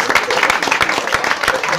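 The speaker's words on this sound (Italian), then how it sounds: "Quindi possiamo fare un applauso a questa cosa." Audience applause at the Festa di Terra Nostra town festival in Brusciano, Italy: a short, close burst of many hands clapping unevenly.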